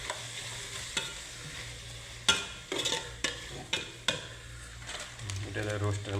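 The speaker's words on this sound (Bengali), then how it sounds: "গুঁড়ো মরিচ দিলাম, নাড়াচাড়া দিই।" Chili powder being stirred into a chicken roast masala in a pan: steady sizzling frying with repeated scraping and clinking stirring strokes, fairly close and moderately loud, no talking.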